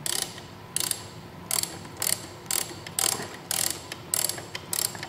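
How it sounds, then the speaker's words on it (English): Ratchet wrench with an 11 mm universal socket, 3/8 drive and long extension, turning a bolt on a steering damper being fitted to a 2015-2017 Yamaha R1; about eight short, close clicking bursts in a steady rhythm with no talking. "I've got an 11 millimeter socket here, universal socket, 3/8 drive, using a rather long extension."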